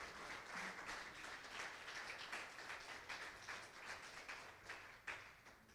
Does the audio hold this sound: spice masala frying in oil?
no